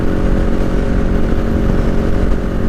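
A motorcycle cruising at highway speed of about 65 mph, with a steady, close engine drone and rushing wind noise holding continuously at an even level.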